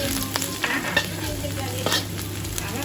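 Garlic stir-fried in a hot pan for a minced pork and tofu dish, a loud constant sizzle with repeated spatula scrapes and taps at an uneven rhythm.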